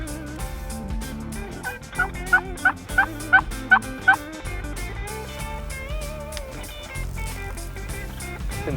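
Wild Merriam's turkey gobbling outdoors in open country, a rapid run of about seven loud, rattling gobble notes at mid distance, standing out over other layered bird calls and background sound.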